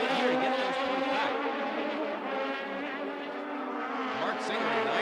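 A Swift open-wheel car pushed hard in the 1990 Atlantic race at Trois-Rivières: a loud, buzzing engine note held high, with repeated pitch dips and climbs as the driver works through the gears.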